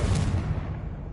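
A Confringo blasting spell goes off in Hogwarts Legacy as a single short, heavy burst that fades within a second.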